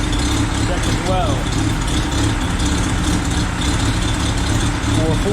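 A 4-cylinder car engine idling at about 750 RPM after a distributor swap, a steady loud rumble with light rattling throughout, with a voice speaking over it.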